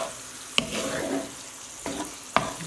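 Sesame chicken with bok choy tossed in a hot pan gives a continuous close sizzle broken by a few sharp clanks and scrapes of a utensil against the pan.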